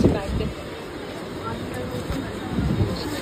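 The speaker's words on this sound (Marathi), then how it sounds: "आता आम्ही ट्रेनमध्ये चढतोय." Inside a crowded Mumbai-area local train carriage, a steady low rumble and hiss run beneath constant chatter and babble from passengers nearby.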